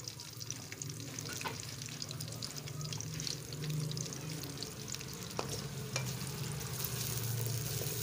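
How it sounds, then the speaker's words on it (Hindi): Two large chopped onions sizzle steadily in hot oil in a pan for pumpkin kofta, a continuous close frying hiss with occasional stirring scrapes and no voices. "फ्लेम को ऑन कर देते हैं और इसमें हम ये प्याज डाल देंगे।"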